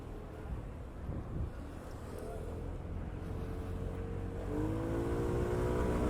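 A 2020 SYM CRUiSYM 150 scooter rides through traffic while lane splitting, its engine droning steadily and rising slightly in pitch, with wind rush and road noise close on the microphone.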